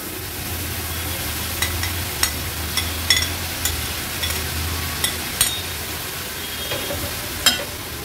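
Finely chopped radish greens with onion and turmeric fry in a pan, a constant soft sizzle broken by irregular sharp clicks and scrapes of a spoon stirring, close and without talk.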